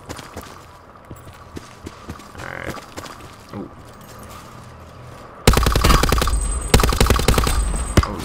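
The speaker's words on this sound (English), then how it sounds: "someone's shooting at me" Gunfire in the video game Black Ops 4: rapid automatic bursts, quiet and scattered at first, then a loud dense stretch of shots over the last few seconds.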